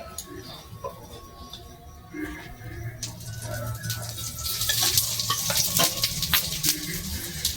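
Parathas frying in oil in a pan, a steady sizzle with crackling bursts that grow louder toward the end, close by and with no talk.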